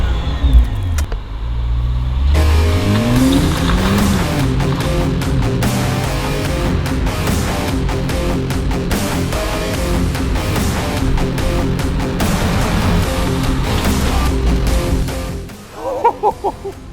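A Nissan GT-R accelerates hard, its engine rising in pitch through the gears with loud, close intake and exhaust roar inside the cabin before easing off near the end.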